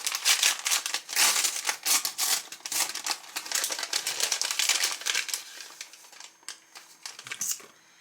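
Paper crinkles and rustles continuously up close as a small envelope is opened and handled, busy and crisp throughout with brief pauses near the end, no voices.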